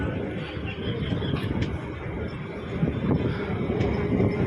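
A Sealdah–Hasnabad local train running past Barasat on the Hasnabad line: a continuous heavy rumble with clattering wheel and carriage rattles and wind buffeting, heard from on board.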